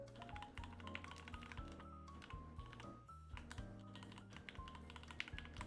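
Someone types on a computer keyboard, a quick continuous run of crisp key clacks over light background music.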